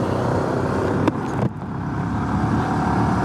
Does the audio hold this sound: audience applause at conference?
no